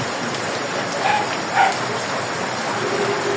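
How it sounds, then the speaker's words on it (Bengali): Heavy rain falls steadily as a constant wash of hiss, with a couple of faint, brief dog-like yelps in the background and no talking. "খুবই প্রচুর বৃষ্টি হচ্ছে"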